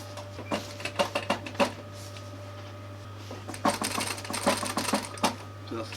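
A sewing machine slowly stitches a camper cushion with a diamond-stitched centre panel, one stitch at a time, around edges and corners: short bursts of rapid clacking separated by pauses, close and fairly loud over a steady low hum.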